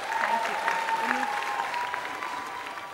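Applause from an audience for a band at a singing competition finale, sustained clapping under a speaking voice, with a faint tone running beneath.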